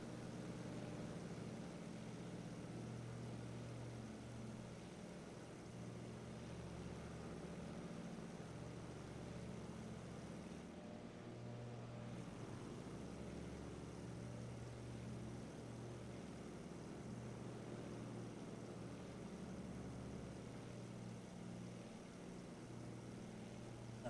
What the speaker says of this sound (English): Love the sound of that engine on the Texas.